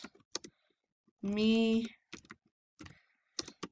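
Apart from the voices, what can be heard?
typing on a computer keyboard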